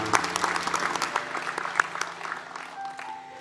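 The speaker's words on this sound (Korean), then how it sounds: "우리와 함께 하신 하나님께 감사와 영광의 박수 올려드리겠습니다" Applause from a church congregation during a Sunday worship service, a lively burst of clapping that gradually thins and fades over a few seconds.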